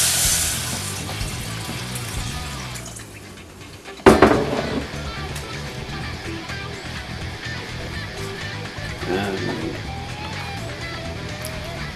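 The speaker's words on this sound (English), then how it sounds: "Now we will go ahead and add our water." Water is poured into a soup pot in a home kitchen, a continuous splashing and filling sound with a sharp knock partway through and faint clatter of the pot.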